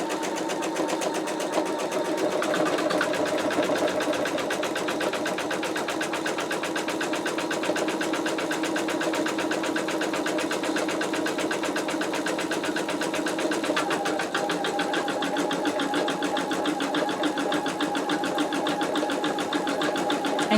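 An embroidery machine stitches a zigzag on an in-the-hoop wallet, a steady, rapid mechanical clatter with a humming motor that runs continuously at an even pace, close and moderately loud.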